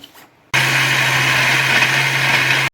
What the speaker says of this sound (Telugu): ఒకసారి మిక్సీ పట్టుకుందాం.